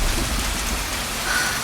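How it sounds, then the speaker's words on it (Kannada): A steady wash of heavy rain with a low thunder rumble underneath, a continuous dense roar with no voices, used as a drama sound effect. "ಮಳೆ ಹೆಚ್ಚಾಗುತ್ತದೆ"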